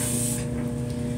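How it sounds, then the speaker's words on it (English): A spray bottle mists water onto curly hair in a short, loud hissing burst that fades over a steady background hum. "So that's why I like to spray it again once I've got it sectioned off."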